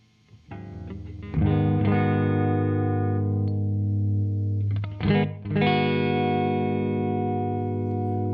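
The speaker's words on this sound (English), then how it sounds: "the first one is a room reverb." A guitar amp played through a NUX Verb Core Deluxe reverb pedal on its room setting: sustained distorted chords ring out loud and alone, with a short gap and a re-strike midway, trailing a roomy reverb tail.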